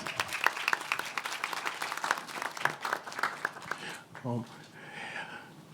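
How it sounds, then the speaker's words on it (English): Audience applause at an evening investiture ceremony at Decatur House, a dense wash of many hands clapping that fills the hall and then thins out as the room settles. "Howard, can we give this wonderful audience a round of applause?"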